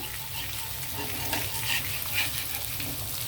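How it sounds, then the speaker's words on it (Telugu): Fish pieces fry over a low flame in a pan, a steady soft sizzle with faint scraping as they are turned, close and continuous for a few seconds without talk. "ఇప్పుడు ఇలా ఫ్రై చేసుకుని ఒకవైపు కాలిన తర్వాత ఇంకోవైపు టాన్ వేయడమేనండి"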